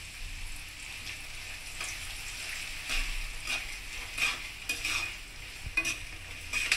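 Chopped onions fry in oil with bay leaf, cinnamon, cloves and cardamom as they are stirred toward light brown for a chicken dish. A continuous close sizzle is broken by scraping stirs and occasional spatula knocks.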